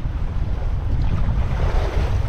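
Sea waves washing around a small fishing boat out on open water, a loud steady rush of surf mixed with low wind rumble, continuous throughout with no voices.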